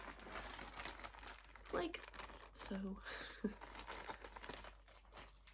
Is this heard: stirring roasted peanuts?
no